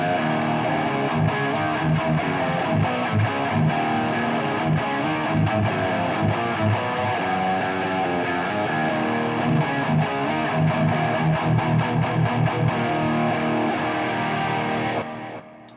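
A distorted electric guitar with a Schaller pickup plays a full, thick-toned riff continuously with sustained chords and quick picked notes, loud and close, ending abruptly.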